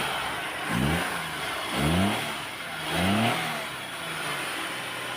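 A Suzuki Mehran's engine runs at a steady idle and revs up three times in even swells, heard close at a used-car auction with a hissing background.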